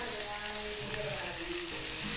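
Sliced onions frying in a hot pan until brown, giving a steady, close, continuous sizzle with no pauses and no talking.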